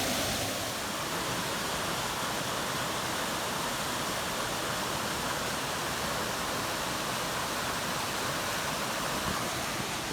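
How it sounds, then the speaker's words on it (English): Steady, full roar of a waterfall along the Mount Washington hiking trail, broad rushing water heard close and continuous with no voices. "We've officially made it to the waterfall"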